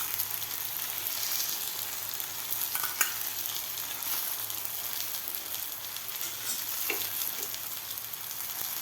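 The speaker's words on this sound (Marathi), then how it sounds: "आता यावर आपल्याला हे थालीपीठ भाजून घ्यायचं आहे." Cheese thalipith roasting in oil on a pan over medium heat gives a continuous, even sizzle and crackle, close and steady throughout, with a couple of faint clinks and no talking.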